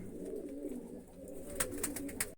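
Domestic pigeons coo in soft, low, rolling calls, fairly faint, with a few sharp rustling taps near the end.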